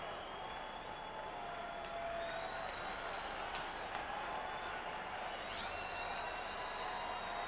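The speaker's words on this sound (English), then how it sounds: "Crowd starting to pump up the setup man for the Houston Astros." Fans in the stands at a Houston Astros home game against the St. Louis Cardinals applaud and clap, a steady, fairly distant wash of crowd noise that holds even throughout, with a few scattered sharper claps and whistles.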